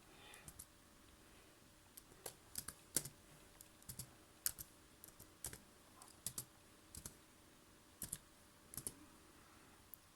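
Someone types on a computer keyboard, with sharp clicking keystrokes arriving in short irregular bursts, close and fairly quiet, with no talking.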